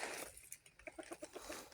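Wild junglefowl calling loudly in Thai or Lao forest, a couple of short clucking crow-like bursts over a busy background of other birds and insects, fairly near.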